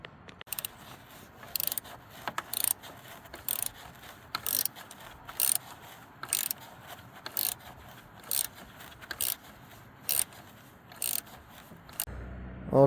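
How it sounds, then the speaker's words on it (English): Socket wrench with an extension loosening the long screw on a Jeep Cherokee battery holder, a steady series of close ratcheting clicks in short regular bursts, alone and without talk. "So first remove that screw and remove the battery holder."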